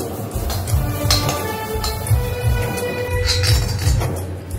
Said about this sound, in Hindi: बटर इसमें डालेंगे भूनने के लिए